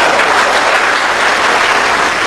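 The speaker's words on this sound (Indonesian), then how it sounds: "Ini tepuk tangan apa?" Dense, steady applause from a church congregation at GKI Sakti during a worship service, loud and continuous throughout with no voices breaking through.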